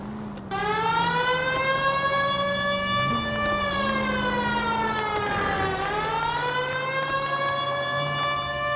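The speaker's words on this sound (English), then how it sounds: "Hit the siren." Police car siren in the video game L.A. Noire, a loud, sustained wail that holds steady, dips, then climbs again over a low engine drone, with no talking.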